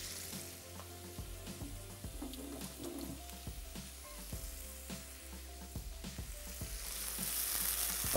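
Meat frying in its own juices with ginger and garlic, a steady close sizzle with scattered crackles and spatters and occasional stirring clinks, growing louder toward the end.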